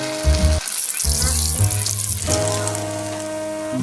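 Potato-stuffed bread roll dropped into hot oil in a wide pan, crackling and sizzling steadily with a brief pause near the start, loud and close.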